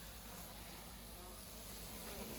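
A steady, faint hum of many bees buzzing together at close range, continuous and even, with no talking.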